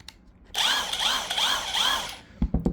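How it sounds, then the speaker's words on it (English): A Relia Roads cordless impact wrench whirs close by in one sustained high-pitched burst lasting about two seconds, its motor pulsing rhythmically as it hammers, then a few sharp clicks and handling knocks follow. "This is a Relia Roads, that's the brand, impact wrench."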